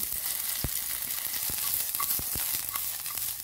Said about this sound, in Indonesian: Tumis bawang bombay terlebih dahulu sampai layu, kemudian masukkan bawang putih